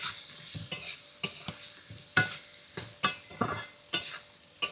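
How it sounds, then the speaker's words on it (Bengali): A turmeric-spiced mixture is stirred and fried in a pan for ghatkol bata, with a steady frying hiss broken by repeated sharp scraping strokes of the spoon, close and fairly loud, with no voices. "তারপরে একটু নাড়াচাড়া করে আস্তে আস্তে এটা একটুখানি ভেজে নিই সুন্দর করে।"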